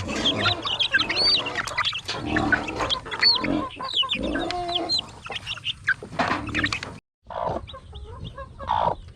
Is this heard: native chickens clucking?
yes